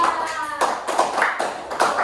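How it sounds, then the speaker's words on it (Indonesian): A classroom gives a short burst of clapping during a microteaching biology lesson on viruses. Several hands clap at once in uneven waves for about two seconds, fairly close and moderately loud. No one speaks over it. "Kita kasih tepuk tangan dulu untuk Naza"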